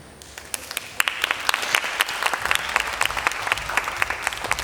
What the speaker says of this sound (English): Now again, give a big clap for them